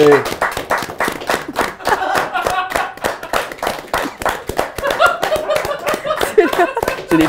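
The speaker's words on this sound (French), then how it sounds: "Anne-Sara et Noémie, applaudissez-les!" A studio audience claps through a comedy talk show, the sharp claps coming dense and steady under loud laughter and a voice speaking over them.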